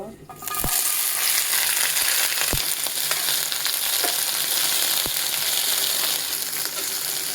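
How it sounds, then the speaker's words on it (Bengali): Onion stalks frying in hot mustard oil in a pan, a loud continuous sizzle close up with occasional sharp clinks and scrapes of a utensil against the pan. "পেঁয়াজ কলিটা ভালো করে ভেজে নেব"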